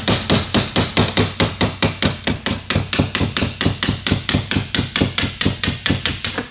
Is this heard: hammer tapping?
yes